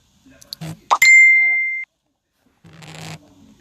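A phone ringtone goes off: a single sustained electronic tone rings clearly for under a second amid scattered clicks and handling sounds, with someone speaking briefly before and after.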